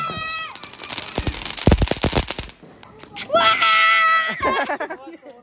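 Firecrackers bursting outdoors during Diwali night celebrations: a loud rapid string of sharp cracks and pops, followed by whistling, crackling bursts, with people shouting and talking throughout.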